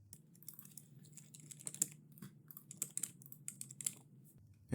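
Soft, quick keystrokes on a computer keyboard as a username and password are entered, a steady run of close, light clicks with no voices.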